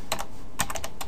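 Rapid keystrokes clatter on a computer keyboard in two quick bursts, close and crisp with no voice.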